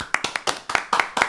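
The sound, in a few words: hand clapping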